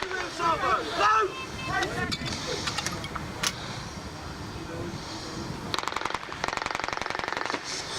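At a military show in Folkestone, Kent, artillery guns fire in a salvo, producing a series of sharp reports with a rapid rattling burst toward the end, while commands and talk are heard throughout.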